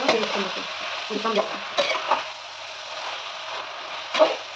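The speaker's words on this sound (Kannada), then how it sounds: "ಇದು ಸ್ವಲ್ಪನೇ ಹುರ್ಕೊಬೇಕು" Egg gravy ingredients crackle and sizzle in a pan, with intermittent scraping strokes of a spatula stirring it up close.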